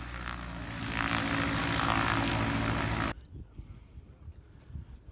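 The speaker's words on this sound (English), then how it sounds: "Experimental J3 has a souped up motor, leading edge slats, modified flaps, lots of neat little tricks to it." An experimental Piper J3 Cub with a souped-up engine, leading-edge slats and carbon fiber extended flaps at a STOL contest, its propeller engine droning loud and steady for about three seconds before cutting abruptly to faint outdoor background.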